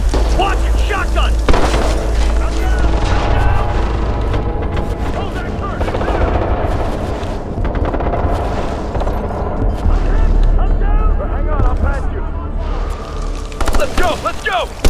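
Loud explosions from grenades alongside bursts of rifle and shotgun fire in a Ghost Recon Future Soldier firefight, a dense continuous barrage with sharp booms near the start and end, while game characters shout over the combat.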